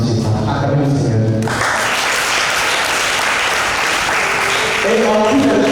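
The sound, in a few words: congregation applauding and acclaiming the Lord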